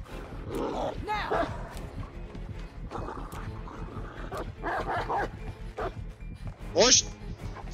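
Hound growling and barking with a high whimpering yelp near the end, from the Houndmaster's dog in Dead by Daylight, mixed with game noise and someone talking throughout.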